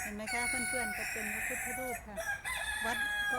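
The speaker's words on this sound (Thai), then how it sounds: "จะได้ยินเสียงไก่ในธรรมชาติข้างหลัง" Roosters crow repeatedly in the open air at a Thai temple in Belgium, their long calls running beneath someone talking near the listener.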